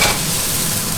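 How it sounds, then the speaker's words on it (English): Onions fry and are stirred in a pan for Hakka pasta, a close, steady sizzle with faint scraping that runs through the short clip without any talk. "these are frying."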